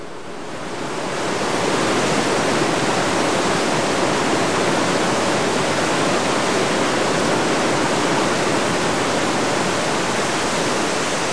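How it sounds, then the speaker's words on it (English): Water from the towering fountain at Fountain Hills near Phoenix, a steady, loud, broadband rushing roar that swells in over the first second or two and then holds evenly with no voices. "Fountain Hills, Phoenix, and the highest fountain in the world."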